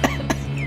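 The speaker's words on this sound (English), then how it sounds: "I cough." A single short cough, close and fairly loud, with two quick bursts of breathy throat noise.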